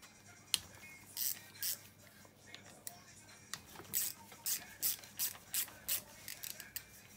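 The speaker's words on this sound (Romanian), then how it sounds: "Ok, mai departe desfacem demarorul." A ratchet wrench clicks in rapid bursts, loosening the starter motor bolts on a Bashan 250cc ATV engine (JS171FFM) during a teardown, heard close and fairly quiet with short pauses between strokes.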